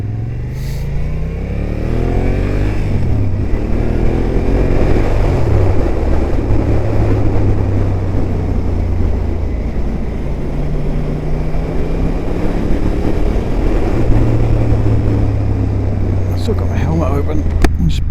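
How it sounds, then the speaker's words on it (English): A motorcycle exhaust with the dB killer still installed drones loudly nearby, revving up and settling into a steady cruising roar, with shifts in pitch as the bike rides along. "This exhaust sounds pretty good."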